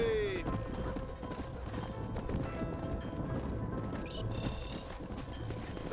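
In Red Dead Redemption, horse hooves clip-clop in a steady walking rhythm over a constant outdoor ambience, with a brief whinny-like tone near the start.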